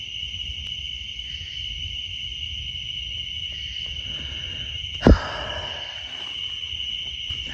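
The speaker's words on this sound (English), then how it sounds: "Like I hear crickets and stuff." Crickets chirp in a forest along a gravel trail at night, a steady continuous high trill held throughout at moderate level, broken once by a brief sharp thump.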